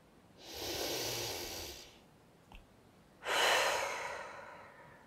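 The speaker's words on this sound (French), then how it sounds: "Prenez à nouveau une profonde respiration pour vous dynamiser." A slow deep inhale and a fuller, louder exhale in a guided sophrology relaxation, separated by a short pause with a faint click, intimate and close with no speech.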